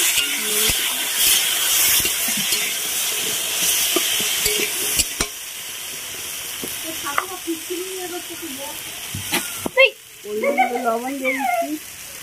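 Food frying in a pan with a little water added, a steady broadband sizzle and hiss with stirring clatter, close and fairly loud, then a softer bubbling stretch near the end; no talking.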